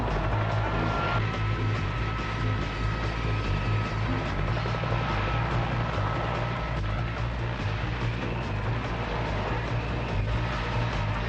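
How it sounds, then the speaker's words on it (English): A steady, loud rotor-and-engine drone of a helicopter fills the whole stretch, a dense continuous roar without pauses. "He climbs in just as Captain Marvel approaches the chopper."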